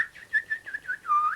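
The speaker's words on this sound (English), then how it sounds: "Aren't the birds beautiful? Just listen to them sing." Birdsong effect in a radio advert, a clear run of short whistled chirps and warbles ending in a longer sustained note, close and alone.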